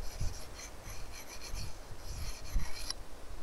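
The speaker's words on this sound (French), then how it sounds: "là je peux venir affûter ma hache sans crainte de riper" An axe blade rubbed with a small pocket sharpening stone, close, quiet rasping strokes in a quick irregular rhythm over a few seconds, no voices.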